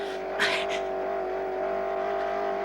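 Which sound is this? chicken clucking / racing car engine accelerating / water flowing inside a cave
racing car engine accelerating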